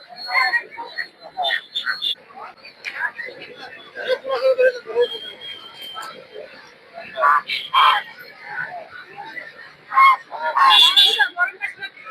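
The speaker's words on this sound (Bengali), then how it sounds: "প্রচুর পরিমাণে হাঁস আছে" Ducks quacking and honking in a crowded poultry market in Narsingdi, Putia, calls coming in bursts of varying loudness over steady crowd murmur and people talking.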